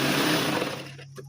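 A sewing machine stitching a fall onto a saree gives a brief, close, buzzing mechanical whir. It runs steadily for about a second, then tapers off and stops.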